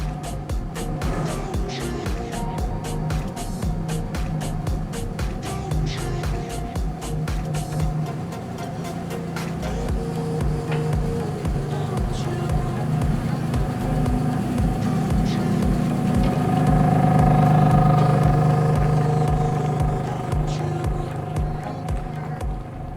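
Ferrari Enzo with a naturally aspirated 6.0-litre V12 of 660 horsepower, rapid rev pulses early, then a sustained loud engine drone that swells toward the end, close and unbroken.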